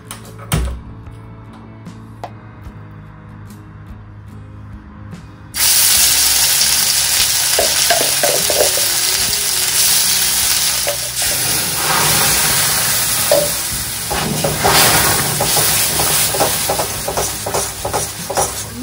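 Ginger and a green chili hit hot oil in a pan and set off a loud, steady sizzle that begins abruptly and carries on with stirring clinks and crackles, close up, with no voices.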